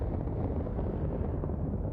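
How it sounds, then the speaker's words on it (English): A Merlin ship explodes in Star Citizen, giving a deep, sustained roaring rumble with no sharp onset, heavy in the low end and steady throughout. "Usually the Merlin doesn't survive the explosion."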